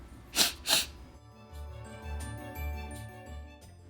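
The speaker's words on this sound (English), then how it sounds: "I have the sniffles! Achoo!" A reader voices a cartoon pig's sneeze in a children's picture-book read-aloud, two sharp breathy bursts in quick succession, close and loud, followed by soft background music.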